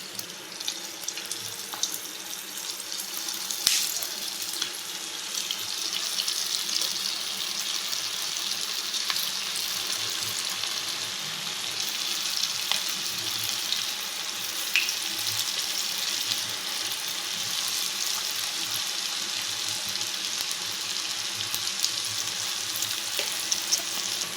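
Vegetable Manchurian balls deep frying in hot oil make a continuous bright, bubbling hiss that holds steady and close for the whole stretch, with a few sharp pops and no voices.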